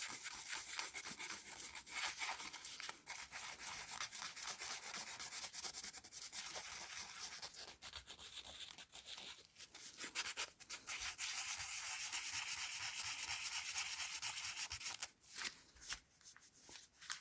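Sandpaper scrapes across a 3D-printed art toy in a workshop, a close, steady, hissing rub in long continuous strokes, pausing briefly before resuming in short, choppier passes near the end.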